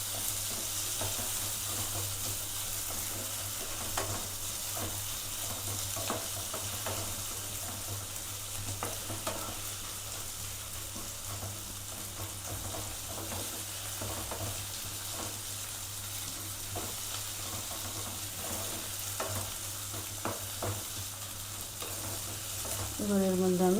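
Chopped tomato and ginger frying in a pan for an egg and potato curry, a constant loud sizzle with occasional stirring scrapes running steadily throughout, no voices.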